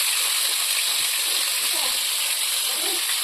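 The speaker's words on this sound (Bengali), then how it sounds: "ফুলকপি ভাজবো এখন" Cauliflower frying in a hot pan gives a loud, steady, broadband sizzle that runs unbroken from start to finish, close up and with no voices over it.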